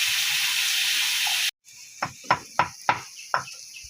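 Vegetable stems frying with onion and garlic sound first as a loud, dense sizzle, then, after a sudden break, as quieter frying under a series of five or six sharp stirring scrapes and knocks.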